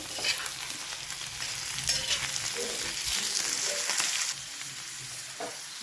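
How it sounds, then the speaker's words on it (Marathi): Masala for dhaba-style matar masala fries in oil while being stirred, a close, continuous sizzle with scraping stir strokes and brief louder bursts, and nobody speaking. "अशा प्रकारे मसाला तळसून घ्यायचा आहे मस्त तेलात"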